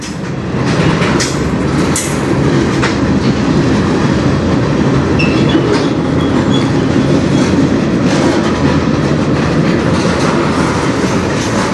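A train rolls past steadily on the Strathroy Subdivision, loud and near, with continuous rumbling, clickety-clack from the wheels and faint squeals throughout.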